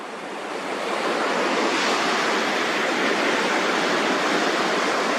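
Ocean waves wash onto a beach in a loud, continuous broadband roar, steady throughout with some wind noise mixed in.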